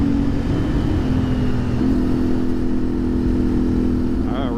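A CFMoto Ibex 450 adventure motorcycle engine wound up high on a curving gravel road through woods, producing a loud, steady, continuous roar mixed with wind rush for the whole stretch.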